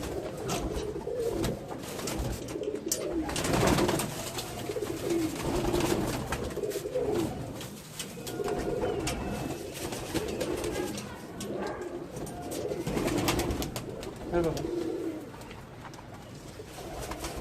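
Pigeons coo over a steady bed of soft bird noise, the low throaty calls rising and falling at close range through the whole stretch with no talking.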